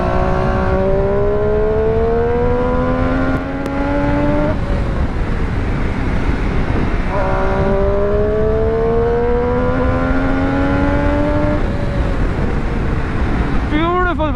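Triumph Street Triple RS 765 cc engine under a rider, two long, loud climbing revs through the gears with a brief easing between them, heard close throughout.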